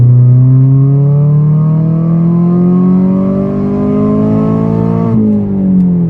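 A Ford Focus with its electric exhaust cutout valve open revs up steadily in second gear with windows up, loud and close with a rising exhaust roar, briefly dipping at a gear change before climbing again.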